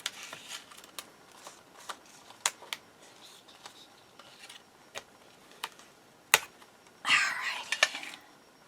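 Sheets of white paper handled for a Christmas album or journal, with close sharp taps and flicks at irregular intervals, ending in a short rustling burst.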